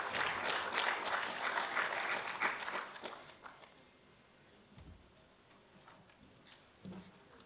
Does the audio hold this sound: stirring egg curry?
no